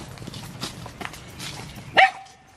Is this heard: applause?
no